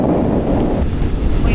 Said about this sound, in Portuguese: esse vento que a gente tá recebendo agora